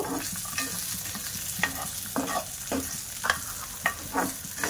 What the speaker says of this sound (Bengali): 2 চামচ নারকেলের গুঁড়ো আর কিছুটা কিশমিশ দিয়ে দেব, দিয়ে একটু হালকা নাড়াচাড়া করে নেব।